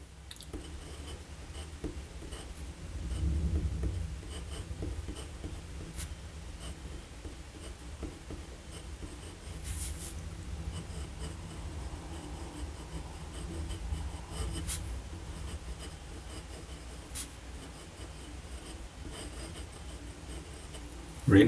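A fountain pen filled with Sheaffer blue ink scratches across paper in faint, close strokes, a soft continuous scraping with occasional small ticks over a quiet room.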